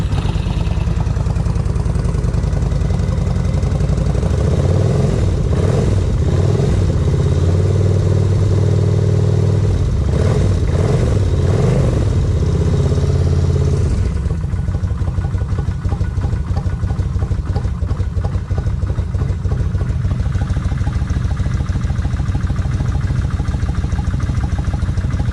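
Honda 750 ACE Deluxe motorcycle engine running steadily in a cold hangar, a loud close rumble with a fast idle that shifts pitch partway through, then settles into an even, lower idle chug.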